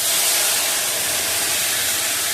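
Spice paste hitting hot mustard oil with dried red chilli and cumin, producing a loud, continuous broad hiss of sizzling that stays steady and close throughout.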